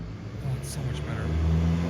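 A Scion tC pulls out of a parking garage, its engine note rising as it accelerates nearby, with voices in the background.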